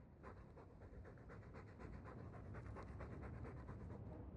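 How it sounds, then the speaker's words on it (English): A dog in Dragon Age 2 pants heavily and steadily with rapid, rhythmic breaths, close and loud against the game's ambient background, and no one speaks. "All that noisy dog breath"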